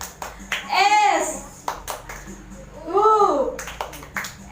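Children clapping along to a church clapping chant, two bursts of sharp rhythmic claps with a voice calling out between them, close and lively.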